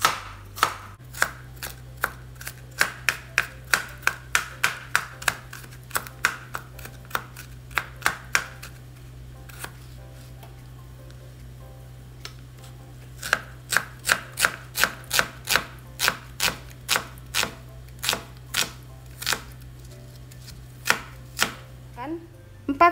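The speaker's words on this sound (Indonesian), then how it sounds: "Bawang putihnya akan saya geprek." A sharp knife chops and smashes garlic cloves on a cutting board, giving crisp rhythmic knocks in fast bursts with a short pause midway, close and clear with no talking.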